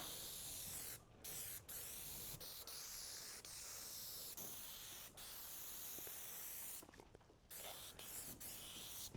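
A loud, continuous hiss of adhesive sprayed from a spray gun onto a curved worktop edge runs nearly throughout, broken by short pauses and a few light clicks and taps.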